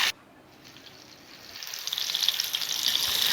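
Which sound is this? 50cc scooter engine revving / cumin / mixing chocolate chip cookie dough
cumin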